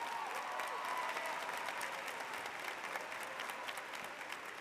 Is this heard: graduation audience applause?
yes